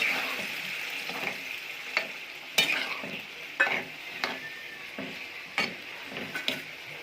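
Brinjal and potato vegetable sizzles softly in a pan while a spoon stirs it with regular scraping strokes, roughly one per second, close and fairly quiet.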